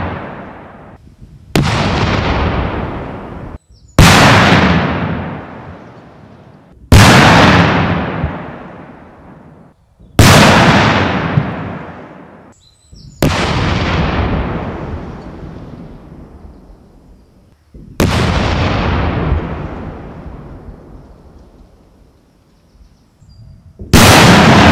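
Artillery shells holding about 50 kilos of explosive detonate one after another, seven or eight heavy blasts spaced a few seconds apart, each a sharp loud crack followed by a long rumbling decay.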